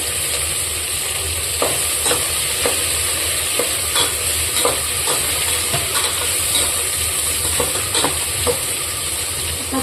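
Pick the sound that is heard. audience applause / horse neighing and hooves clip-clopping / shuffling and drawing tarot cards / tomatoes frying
tomatoes frying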